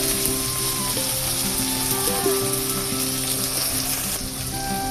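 Dried shrimp sizzle steadily in a hot pan, a close, continuous frying crackle with faint scraping and clinking of stirring, no voices.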